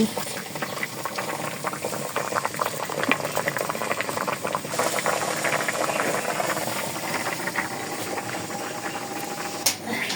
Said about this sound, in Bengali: আলু কেটে এই যে সিদ্ধ দিয়েছি